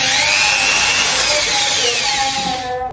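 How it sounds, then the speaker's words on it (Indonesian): A power drill runs steadily and loudly, close by, for almost three seconds while boring into a stainless-steel railing fitting, its whine sliding up and down in pitch before it winds down at the end. "Aku bor dulu ini."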